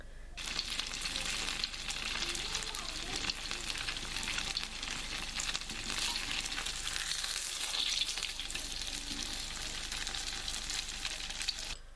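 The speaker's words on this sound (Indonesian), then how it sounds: "Oke, sekarang kita akan goreng." Oil sizzles and crackles continuously as egg pempek fish cakes fry in a pan, a dense hiss with occasional stirring; no talking.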